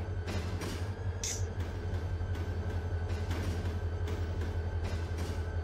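Rail cars rumble and clank in a busy yard in the Run 8 Train Simulation game, a steady low mechanical drone with intermittent knocks as cars are bumped and pushed along, without any speech.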